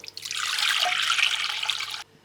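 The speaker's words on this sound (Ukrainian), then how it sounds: "Для опари беремо в теплу воду" Warm water poured into a bowl as the start of a yeast and sugar starter for Ukrainian palianytsia bread, a steady close splashing stream lasting about two seconds, then abrupt stillness.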